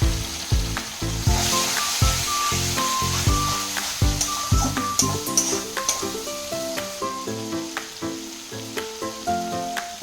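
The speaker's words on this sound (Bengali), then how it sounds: "তারপর আমি একটু জল ঢেলে দেব।" Water hits spices fried in oil for a kabuli chana curry, setting off a loud, dense sizzle that slowly eases, with occasional clinks of a pot and no voices.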